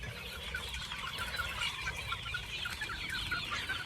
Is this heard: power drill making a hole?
no